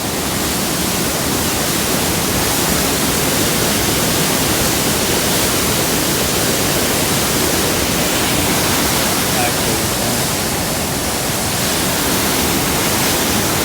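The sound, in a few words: water rushing out of a dam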